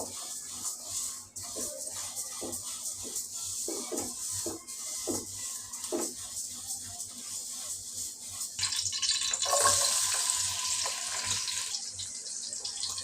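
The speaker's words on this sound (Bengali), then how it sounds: "ডালটা আমি ভেজে নিলাম" Mung dal fries in a pan with a steady, close hiss broken by soft scraping stirs, the sizzle swelling louder toward the end, with no one talking.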